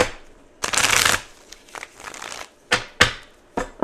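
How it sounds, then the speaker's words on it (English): Tarot cards being reshuffled by hand in a series of crisp riffling bursts, one long flurry followed by several shorter snaps and pauses, close and fairly loud with no talking. "Let me reshuffle these cards."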